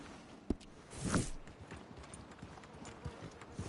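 Hooves of a horse in the video game Red Dead Redemption 2 clip-clop faintly at a slow walking pace, with a soft snort or shuffle early on.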